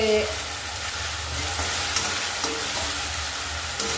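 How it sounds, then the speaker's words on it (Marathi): Ginger-garlic paste hits hot oil in a pan while cooking a dahi aloo gravy, giving a steady, close sizzling fry with faint stirring scrapes and no talk. "आता आपण याच्यामध्ये अद्रक लसणाची पेस्ट घालणार आहेत"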